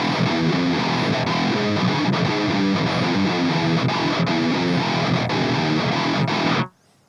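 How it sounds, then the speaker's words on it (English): Looped metalcore guitar take with a live guitar layered in: thick, distorted chugging riffs play loud and continuous for several seconds before stopping sharply into near silence. "So I'm just gonna loop this guitar take and I'll just bring in the live guitar for you to listen to."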